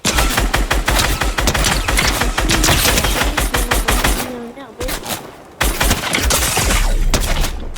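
Rapid automatic gunfire in Fortnite, dense bursts of shots rattling loudly for several seconds, breaking off briefly and then resuming, with a voice talking over it.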